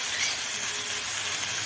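Fried prawns go into a pan of cooking spices with fried potato and carrot, setting off a steady, close sizzling hiss that continues evenly throughout.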